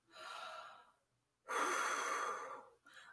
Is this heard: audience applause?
no